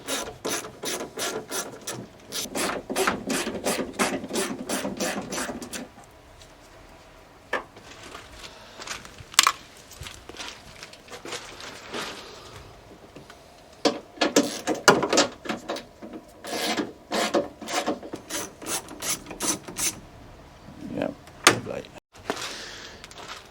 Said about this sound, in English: now we need to remove the other bolts, which would be a couple of 10 mils.